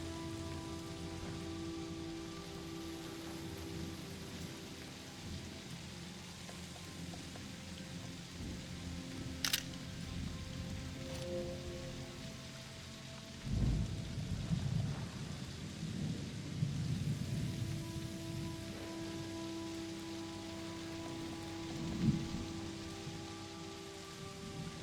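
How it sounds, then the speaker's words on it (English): Rain falls steadily in a cozy life-simulation game while low rumbles of thunder roll in at intervals, including a sharp crack early on and swelling booms later, over soft sustained music tones. "Maybe I should even record the sound of rain."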